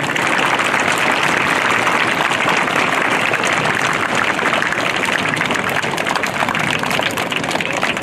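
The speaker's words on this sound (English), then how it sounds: "Please give her a hand of applause." At a high school sports day, an audience claps for the principal, a broad, steady wash of applause that stays loud and even throughout with no voices standing out.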